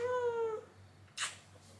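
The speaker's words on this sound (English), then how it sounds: "This is my Zoe cat who doesn't want to be here." A pet cat gives one drawn-out, falling meow close by in a quiet room, followed by a brief soft rustle.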